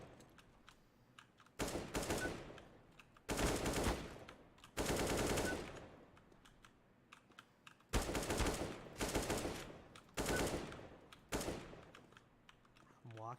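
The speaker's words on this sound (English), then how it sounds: "I'm walking into the shots." Rapid bursts of automatic gunfire in a video game come in several separate volleys of a second or so each, with quieter gaps between them.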